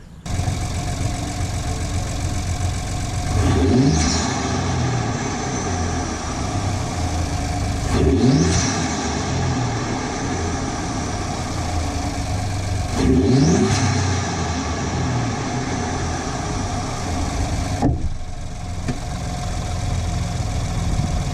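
Loud, close car engine with an aftermarket intake revving in several sweeping rises and falls over a steady idle, with a strong intake roar at each climb.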